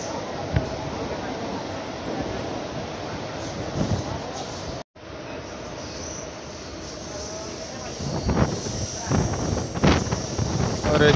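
Mumbai local train running past Mumbra station, a continuous rumble and rattle of the carriages with wind buffeting the microphone, briefly cut out midway, louder clatter near the end.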